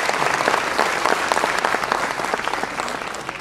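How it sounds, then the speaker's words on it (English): Attendees at a technical talk on building robots with Android and Arduino give a round of applause, a steady, moderately loud mass of clapping hands that tapers slightly toward the end. "let's give a round of applause for Sukhdeep"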